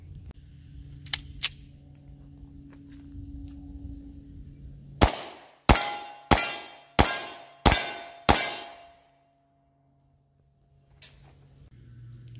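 A Beretta Nano 9mm pistol fires six Winchester rounds in a steady string, each shot a loud sharp crack close by with a short decay, followed by silence.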